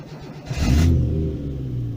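Subaru H6 3.0 engine fitted in a VW T3 Caravelle van, hot-started, swelling into a brief loud rev and then dropping straight back to a steady low idle hum, close by.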